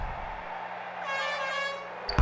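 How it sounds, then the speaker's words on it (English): An air horn sounds during free throws in NBA Jam Extreme, a single loud, brassy blast of about a second over arena crowd noise, followed by a sharp thump at the end. "an air horn during free throws"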